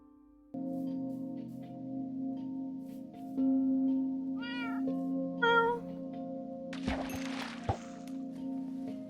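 A cat meows in a modded Minecraft game: two short rising meows, then a harsher third call with a sharp knock, all over a steady electronic hum.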